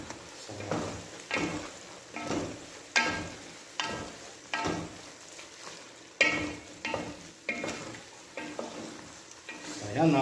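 Pancit rice sticks coated in oyster sauce are stirred and tossed in a pan, making a repeated series of scraping, sizzling strokes that swell and fade in a steady rhythm, close and moderately loud with no talking.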